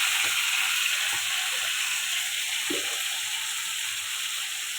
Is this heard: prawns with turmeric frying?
yes